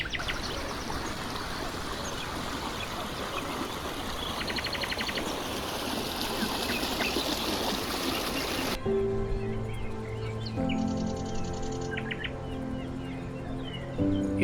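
River water diverted into a paddy field in Punakha, Bhutan, trickles and rushes steadily at close range. Later the scene shifts to quieter flow with birds chirping nearby.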